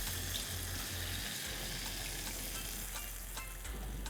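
Curd mix poured into a pan of hot oil with blistering garlic and slit green chilies, a steady close sizzle and bubbling with faint liquid splashing, no voices.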